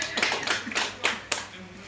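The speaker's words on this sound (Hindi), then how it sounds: "जोरदार तालियां संतोष जी के लिए" A few scattered hand claps, near and fairly faint, sound at a political party welcome gathering in Muzaffarpur.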